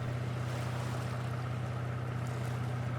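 A tugboat's V8 diesel engine runs at sea, giving a steady, continuous low drone with a strong hum that holds unchanged throughout, under faint wash of water and wind.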